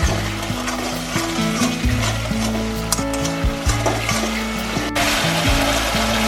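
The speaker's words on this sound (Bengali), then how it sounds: "সসগুলো দিয়ে কিন্তু আমি হালকা নাড়াচাড়া করে নিলাম।" Schezwan sauce and tomato sauce sizzle in a frying pan as a spoon stirs them, a loud, close, continuous fry with scraping strokes over a steady low hum.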